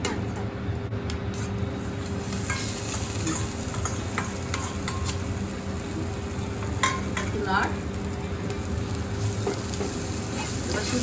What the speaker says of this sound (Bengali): কারি পাতাটা নাড়াচাড়া করে একটু ভাজা ভাজা হোক